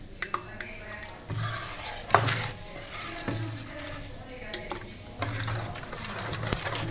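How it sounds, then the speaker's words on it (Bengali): Spoon scraping and clinking against a bowl while chitoi pitha rice batter is mixed, a steady run of close stirring knocks and scrapes with sharp metallic taps throughout. "এবার এগুলো ভালো করে মিশিয়ে নেব।"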